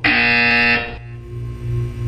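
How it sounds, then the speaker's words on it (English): A loud electronic buzzer from the Portal 2 video game sounds once, a steady harsh tone lasting under a second before cutting off, leaving quiet room tone behind. "When you hear the buzzer, look down at the floor."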